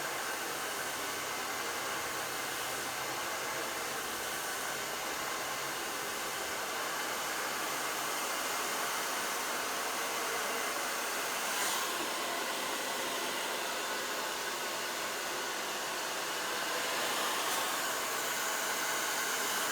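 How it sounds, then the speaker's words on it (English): A hair dryer blows steadily on mannequin hair being styled with a round brush, a constant loud airy hiss that holds unchanged throughout with only faint shifts in airflow. "as you begin to blow dry your mannequin"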